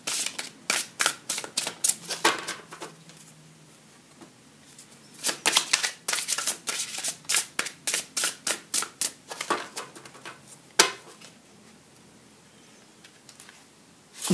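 Tarot cards being shuffled by hand, rapid bursts of crisp riffling clicks in two long runs separated by a quieter pause, close and fairly loud with no voices.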